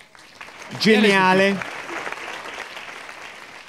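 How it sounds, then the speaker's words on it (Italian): An audience applauds for a woman at a literary stage event, a voice rising briefly over the start before steady moderate clapping continues on its own. "applauso per questa donna"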